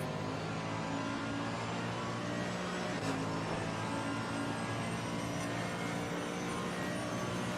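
A Porsche GT3 race car in Assetto Corsa Competizione at Mount Panorama gives a steady, droning engine roar that holds throughout without pauses or talk.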